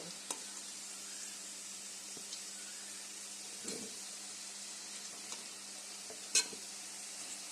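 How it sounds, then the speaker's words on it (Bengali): Potatoes and pointed gourd frying in hot oil in a wok give a steady, quiet sizzling hiss, with a few soft stirring clicks and one brief sharper tap near the end. "তেলটা গরম হয়ে গেলে আমরা প্রথমে দিয়ে দেব আলু আর পটল আলুটা ভাজা ভাজা হয়ে গেলে"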